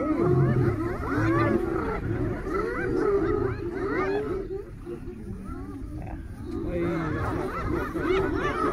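A pack of about 25 hyenas confronting one lion in the wild, heard as dense overlapping whoops, cackles and growling roars that keep going loud and chaotic, swelling and easing slightly throughout.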